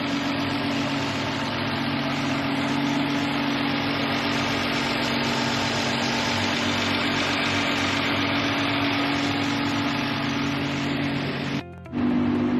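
A 2017 Nissan GT-R engine idles steadily at close range, a constant rumbling drone with no talking, cutting off briefly near the end.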